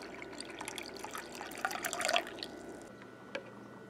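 Cold water, one cup, poured while making jello: a steady splashing, trickling pour for about three seconds, close and fairly quiet, then a brief drip after it stops.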